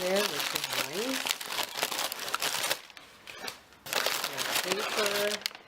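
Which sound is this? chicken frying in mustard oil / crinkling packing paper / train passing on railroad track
crinkling packing paper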